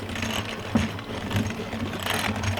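An electric mixer briefly blends vanilla extract into creamed butter and cream cheese, giving a steady motor whir with a faint mechanical clicking, close and alone.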